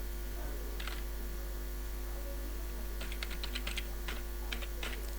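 Typing on a computer keyboard while entering records into a Visual FoxPro database, with quick bursts of keystrokes over a steady mains hum and low background noise, the clatter clustering toward the end.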